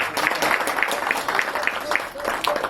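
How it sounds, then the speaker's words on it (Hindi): Applause from an audience at a stage show after a call for loud clapping, a fairly steady wash of hands with individual claps poking through, partly blurred by voice-like sound and crowd murmur. "एक बार जोरदार तालियां हो जाए"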